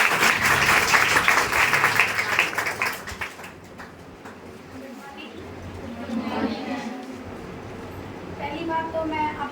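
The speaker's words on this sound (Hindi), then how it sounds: "जोरदार ताली से स्वागत करिए।" An audience in a classroom welcoming a special guest claps loudly at first, then the applause thins out while people chatter over it.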